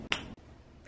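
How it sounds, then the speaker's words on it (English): A single crisp finger snap indoors, close and sharp, preceded and followed by quiet room tone. "So I'm gonna snap my fingers and it's gonna be clean."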